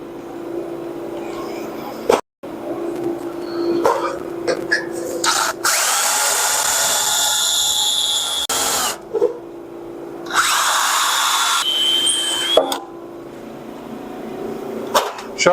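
A power drill whirs in several bursts of a few seconds each, driving screws into a John Deere snowthrower being modified, with stops and clicks between runs and someone speaking over parts of it.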